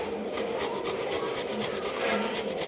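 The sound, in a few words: grating jackfruit by rubbing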